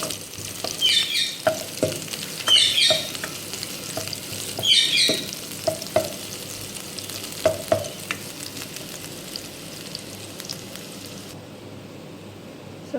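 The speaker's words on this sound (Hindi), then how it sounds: "अब हम प्याज को हल्का सा लाइट सा गोल्डन ब्राउन कर लेंगे।" Onions frying in hot oil toward golden brown, a dense crackling sizzle with repeated scrapes and clinks of a spoon against the pan, close and steady, no voices.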